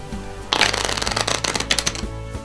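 Playing cards shuffled by hand from a deck, a sudden burst of rapid riffling flutter lasting about two seconds, close and crisp.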